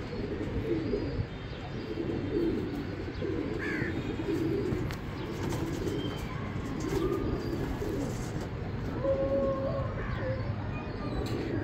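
Teddy breed pigeons coo softly and continuously in low, throaty rolls, several birds overlapping with occasional faint chirps in the background.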